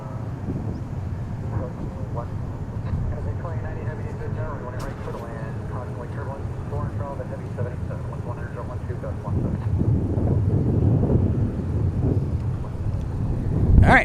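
A Boeing 777 airliner arrives from Amsterdam at DFW Airport, its steady low jet rumble blending with wind buffeting and swelling louder toward the end, with faint voices in the background.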